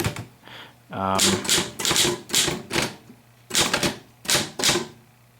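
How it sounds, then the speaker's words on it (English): Typing on a 1937 LC Smith Corona Super Speed typewriter: sharp mechanical key strikes in quick bursts and clusters with short pauses, plus a brief ratcheting carriage sound early on, close and loud. "Let's say I'm typing along. I'm going to do another line here."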